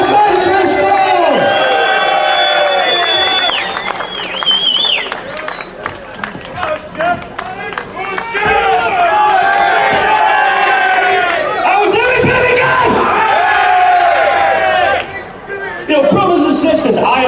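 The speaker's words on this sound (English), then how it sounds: "So please give a big round of applause for Stuart Roberts from Manchester!" A crowd at a Britain First and counter-protest rally in Birmingham cheers and shouts. Voices rise and fall in loud, overlapping waves with brief lulls, close and continuous.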